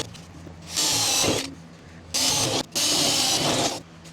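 A power drill bores out spot welds on the firewall of a 1930 car, three loud whining bursts of drilling into sheet metal separated by short pauses, close up with no talking.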